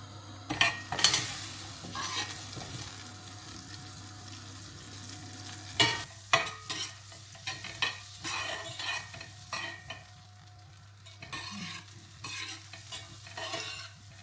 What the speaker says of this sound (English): going to use vermicelli pasta to brown a little bit